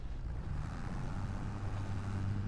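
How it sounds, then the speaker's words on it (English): A video game tractor engine labors in low range, a steady, heavy low drone with a rough, continuous rumble that never lets up, loud and close with no voices over it. "this is a huge strain on the engine"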